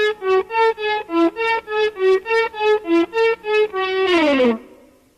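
Electric guitar lick played slowly and dry without echo, each single note faded in with the volume control so it swells softly in a steady pulse, ending on a sliding, bending note.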